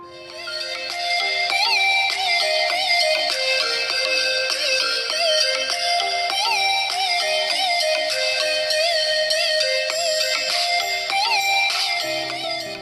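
A bright, melodic ringtone plays loudly and continuously from a Samsung Galaxy A03 phone speaker, looping a cheerful synthesized tune.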